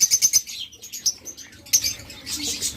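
Budgerigars and lovebirds at a bird shop let out bursts of quick, high chirps, with a brief flutter of wings and a busier stretch of overlapping twittering near the end.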